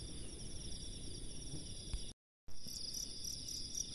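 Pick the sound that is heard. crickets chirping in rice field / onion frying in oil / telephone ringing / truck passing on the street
crickets chirping in rice field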